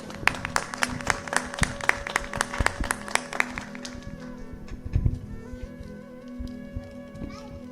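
An audience at a Hindu religious discourse claps to welcome a senior pandit, with brisk claps over a sustained musical drone that fade out after a few seconds while the tones carry on.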